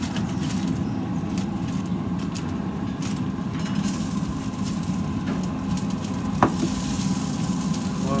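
Pork chops and potatoes sizzle on a Louisiana pellet grill with a steady, crackling hiss. The sound holds at a moderate level throughout, with one sharp click near the end.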